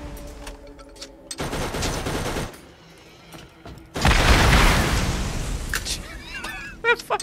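Locker launcher firing rapidly in Borderlands, bursts of fast booming shots in two loud stretches separated by quieter moments, with a voice briefly heard near the end.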